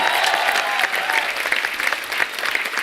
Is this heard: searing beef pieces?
no